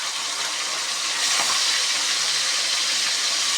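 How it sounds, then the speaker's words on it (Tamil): Prawns marinated in turmeric and salt sizzle in hot oil with a steady, bright hiss that swells a little partway through and stays close and continuous, with no talking. "இதை முதல்ல ஆயிலில் போட்டு நம்ம ஃப்ரை பண்ணி வச்சுக்கலாம்"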